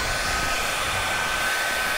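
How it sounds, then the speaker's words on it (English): A hair dryer runs continuously at close range, giving an even, loud whooshing whir with a faint high whine and no pauses or talk. "Top secret. Hair dryer."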